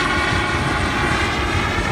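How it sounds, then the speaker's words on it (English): Continuous engine roar and rotor drone from a helicopter passing overhead, a steady broadband rumble filling the whole stretch, loud and fairly close with no talking. "Every single day we have helicopters passing by here."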